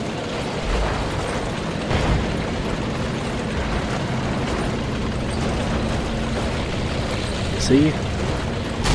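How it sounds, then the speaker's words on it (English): Tank cannon shots ring out in World of Tanks, a few booming blasts with mechanical clanks, heard under a voice. "1 shot on the move, and 2 shots destroying him before he can even turn around and shoot us."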